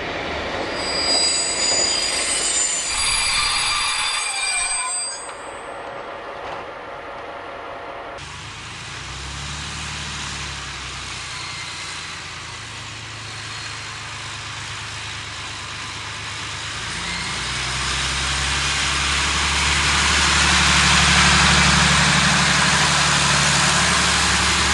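An X 4630 diesel railcar pulls into Bourg-en-Bresse station with a steady low engine drone and rumble that swells toward the end, preceded by high squealing wheels on the rails.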